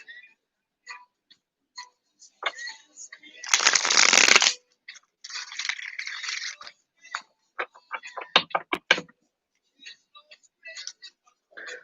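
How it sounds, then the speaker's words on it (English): Tarot cards being shuffled nearby in brisk riffling bursts, one loud burst and a softer one, followed by quick taps and slaps of cards. "putting that energy into these cards I'm shuffling."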